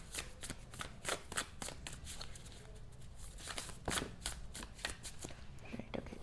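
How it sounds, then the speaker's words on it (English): Tarot cards are shuffled by hand in a steady run of crisp riffling and slapping bursts, close and quiet, with soft rhythmic clicks over a faint room background. "I will be shuffling them on camera."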